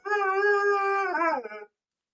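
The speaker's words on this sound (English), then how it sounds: "Here's this dog. He's very cute." A dog gives one long, close, sustained howl that bends into a whimpering whine before cutting off into silence.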